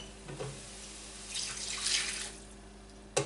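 Water from a cup pours into a pot of cooking chicken in a home kitchen, a soft splashing pour building over about two seconds against faint background hiss, alone without talk.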